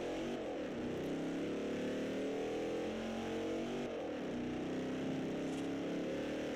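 A car in Forza Horizon drives along a road with a steady engine drone at moderate level, the pitch shifting slightly as it accelerates, with no talk over it.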